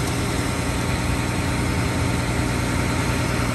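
A Deere 290G excavator's diesel engine runs steadily, a loud, close, continuous idle with a low rumble and constant vibration and no talking over it.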